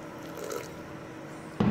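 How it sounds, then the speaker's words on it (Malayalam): Water poured into a pot of Kerala dal and spinach curry, a soft steady splashing and trickling close by, swelling louder in a brief final gush. "ആവശ്യത്തിനുള്ള വെള്ളം ഒഴിച്ചു കൊടുക്കാം."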